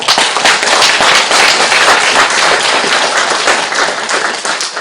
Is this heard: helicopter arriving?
no